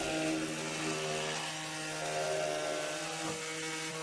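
A power tool motor runs steadily with a constant tonal whine and a slight waver, a close and fairly loud continuous drone with no voices.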